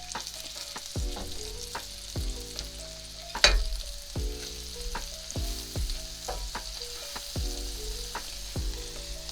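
Onions frying in a pan for garlic pasta, a steady close sizzle with stirring clatter and recurring tonal scrapes throughout, one sharper clink partway through.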